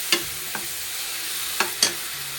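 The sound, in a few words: sautéing fish curry masala in oil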